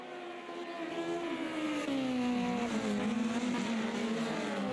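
Several 1-litre historic Formula Ford race cars scream past at Imola, their high-revving engines rising and falling in pitch as they pass close and loud with no talk.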